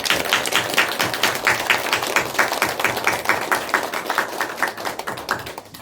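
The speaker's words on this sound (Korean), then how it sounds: "하나님께 우리 영광의 박수 한번 올려주십시오" A church congregation at a Korean Sunday morning Thanksgiving worship service claps together in a steady, rhythmic run of sharp hand claps that continues evenly throughout, full and close, with no talk.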